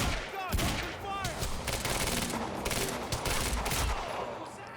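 A video game shootout with rapid bursts of gunfire cracking out near and loud, dense volleys and scattered single shots, while brief shouted voices and a short whistling tone cut through early on.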